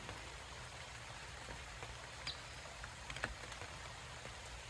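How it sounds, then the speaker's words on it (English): Rain falls outside a cabin at the edge of a forest, a soft, even patter with a few brief louder drips standing out, quiet and distant throughout. "Everything is really greening up with the rain."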